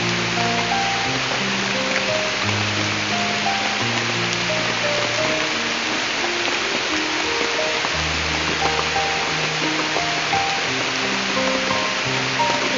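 Heavy rain pours down steadily and close by, a dense continuous roar of water on surfaces that lasts throughout. Faint tonal hums drift underneath, with no speech.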